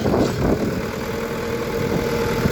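Loud, steady drone of a Deutz-Fahr 4090E tractor engine running close by while filling a ditch, a constant low rumble throughout.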